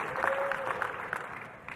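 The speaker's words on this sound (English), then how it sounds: "So we're going to have another clap just to be very congratulatory for all our new licensees." Audience applause at an association's annual general meeting, a fairly faint, steady patter of many hands clapping together, heard from a distance.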